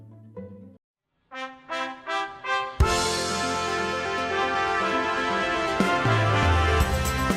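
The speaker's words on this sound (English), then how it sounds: "These jingles have always been some sort of trumpet-based fanfare" A short bright brass fanfare, Ryanair's on-time arrival jingle, plays: a few rising staccato notes, a pause, then a sustained full trumpet chord ringing out with accompaniment.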